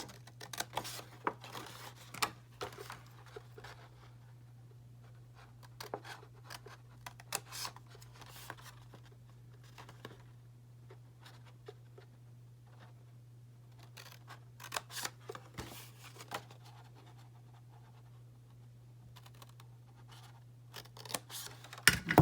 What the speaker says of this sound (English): Just using my scissors.